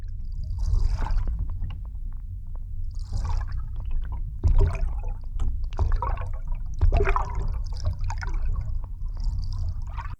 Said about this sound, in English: So here's an example of some bubbles before.